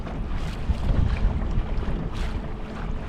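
Boat trolling motor at full throttle, a continuous low rumble and churning water wash with gusty wind buffeting the microphone, steady and close for a few seconds.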